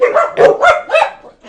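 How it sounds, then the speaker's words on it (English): Several dogs barking close by in quick bursts, loud and sharp, inside a home, with a brief spoken word at the start. "I apologize about my dogs there"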